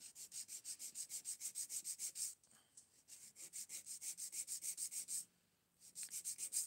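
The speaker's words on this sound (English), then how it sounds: "I'm just going to file this to get a nice straight line" Acrylic nail being filed to a straight edge, a close, steady back-and-forth rasping in quick even strokes, broken by two short pauses.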